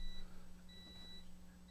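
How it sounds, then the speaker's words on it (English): A beep marks the end of a live stream: a thin electronic tone sounds in short repeated bursts over a faint steady hum, with no voices. "That offensive beep that you hear right now that just came through is the end of the show"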